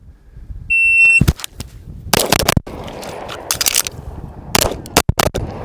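Pistol shots from a Wilson Combat Project 1 on a range at 7 yards: three sharp, loud reports, a short pause while the magazine is changed, then three more quick shots, with a brief electronic tone near the start.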